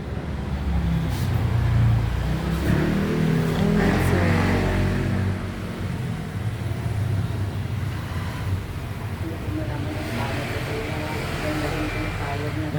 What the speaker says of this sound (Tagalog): Maingay dito sa daan